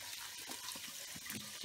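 Sparkling mineral water pours and splashes into a pork shashlik marinade, a steady close gushing fizz with light bubbling and no voices.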